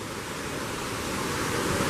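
A waterfall along a nature trail roars as a steady, dense rush of water, loud and continuous and growing slightly stronger, with no voices over it.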